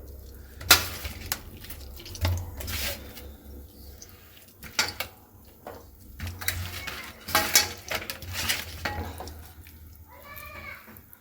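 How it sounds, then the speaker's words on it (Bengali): Fish being mixed by hand with turmeric in a bowl before frying, giving wet squelching and intermittent clinks of the bowl in irregular bursts, with a short faint animal-like cry near the end. "আর এখন মাছটা ভালোভাবে মাখিয়ে নেব।"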